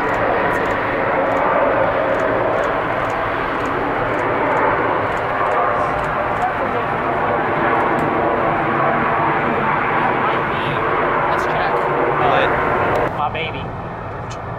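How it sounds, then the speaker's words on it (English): A jet airliner makes a crosswind landing at Atlanta airport, its engines producing a loud, sustained roar heard from nearby, while people talk over it. "Crosswind landing technique."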